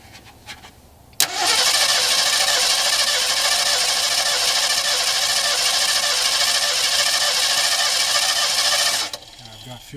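A car engine fitted with a Motorcraft carburetor fires up after a brief quiet moment, then runs loud and steady at a fast idle as the choke opens, before shutting off abruptly near the end.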